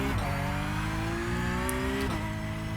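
A race car engine in the iRacing sim game pulls hard under acceleration, pitch climbing steadily through the gears with a shift near two seconds, loud and close, with no talk over it.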